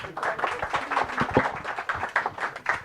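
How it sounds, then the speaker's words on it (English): An audience applauds after an author's book talk, steady close clapping from a modest crowd lasting several seconds, with a faint voice underneath. "Let's give Tom a round of applause"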